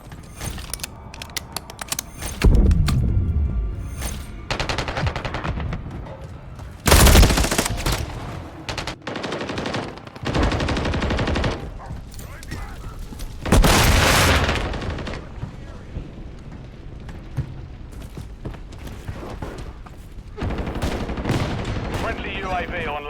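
Call of Duty MW3 team deathmatch on the Scrapyard map, with loud automatic gunfire bursts and single shots up close alongside mechanical weapon clatter and reload clicks, under intermittent in-game voice callouts.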